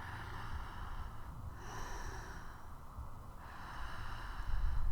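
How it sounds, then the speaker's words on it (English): Slow, deep conscious breathing with soft, airy inhales and exhales repeating at a calm pace, close and quiet, with no talking. "Breathing up into the base of the lungs,"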